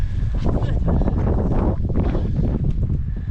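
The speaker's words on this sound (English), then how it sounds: "Coastal winds hitting in full force." Strong coastal wind roaring across a mountain top, a loud continuous buffeting rush with gusts battering the microphone throughout.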